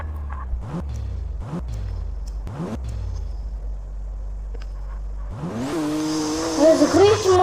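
A car in the mobile game Grand Mobile drives with a steady low engine drone, then revs hard and surges with rising whine and squealing tires, a few sharp knocks early on.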